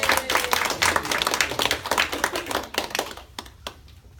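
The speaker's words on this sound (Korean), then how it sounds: "박수 한번." Applause from a church congregation during a Korean deacon training session, a burst of hand claps that is close and lively at first and then thins out to scattered claps.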